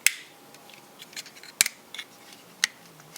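Plastic parts of a Transformers Go! G26 Optimus ExPrime toy snap and click into place: a few sharp, close clicks spaced out over quiet handling noise, with no voices.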